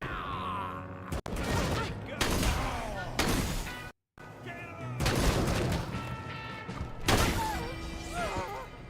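Turn-based combat in Wasteland 3 with dense, repeated bursts of gunfire and heavy thuds, loud and close, mixed with game effects and brief voice-like sounds.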